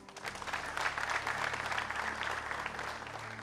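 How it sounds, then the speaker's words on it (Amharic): A church congregation applauds with steady, dense clapping at a moderate distance, sustained for several seconds over a low organ-like hum. "አጨብጭቡላቸው።"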